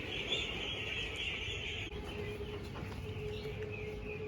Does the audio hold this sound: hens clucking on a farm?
yes